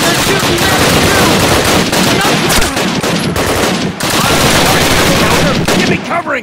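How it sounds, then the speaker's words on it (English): Heavy gunfire fills a Call of Duty 4 battle, loud and nearly unbroken with rapid machine-gun bursts and overlapping shots, dense and close throughout. "They're shooting at me, too!"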